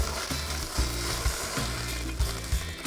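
Food chars over an open flame, giving a steady close sizzle with a few small pops and crackles breaking through at irregular moments.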